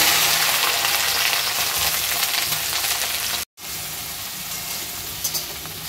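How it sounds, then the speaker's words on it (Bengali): Okra frying in a pan gives a steady, loud, close sizzle that runs almost throughout, broken by one very brief dropout. "ভেন্ডিগুলো একটু ভেজে নিচ্ছি, তারপরে দেবো শাক"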